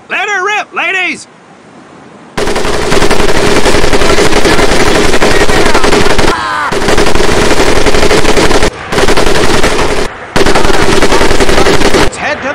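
M1919A4 .30 caliber machine gun in the Medal of Honor Pacific Assault video game, firing loud sustained bursts broken by short pauses, with brief voices at the start.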